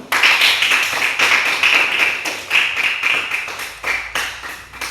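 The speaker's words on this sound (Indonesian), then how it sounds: "tepuk tangan dulu" A classroom of children clapping their hands together at a teacher's prompt, a dense and fairly rhythmic patter of many small hands, loud and close, running for several seconds with brief dips.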